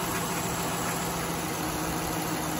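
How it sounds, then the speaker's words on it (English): A car engine idles steadily with a low, even rumble and a faint engine tick running underneath, while being checked for a failed head gasket or oil cooler, with no voices. "Now we're starting to hear a slight engine tick as well."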